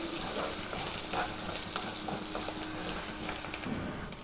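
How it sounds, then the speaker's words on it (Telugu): Tempering spices frying in hot oil in a pan for fenugreek (menthi) chutney, a steady loud sizzle with faint stirring taps throughout. "ఈ పోపు దినుసులన్నీ వేసేసుకొని బాగా ఫ్రై చేసుకోవాలన్నమాట"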